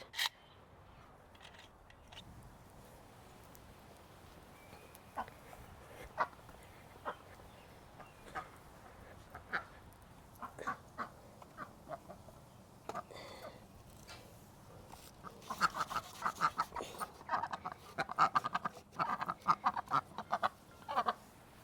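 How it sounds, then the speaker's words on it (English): Ducks quacking around someone working outdoors, with scattered short calls at first that turn into a denser run of quacks near the end, moderately close but fairly quiet. "Leave that alone, little duckies."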